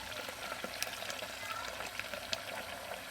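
Hot water running into a stainless soda keg being cleaned, a steady foamy rushing and hissing with small bubbling crackles throughout, fairly close.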